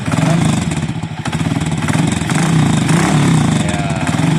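A Honda XRM motorcycle engine, just repaired after misfiring from a faulty ignition supply, runs loud and close with a steady, even idle chug throughout.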